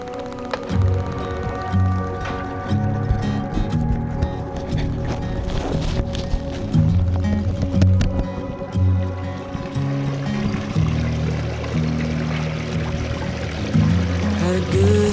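Water pours continuously down a newly built front-door waterfall, a steady splashing rush close by, with a looping low musical rhythm playing underneath throughout.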